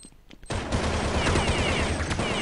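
Rapid automatic gunfire in Counter-Strike on the de_dust2 map during a competitive match, a dense loud continuous burst that starts abruptly and keeps going, with no talk over it.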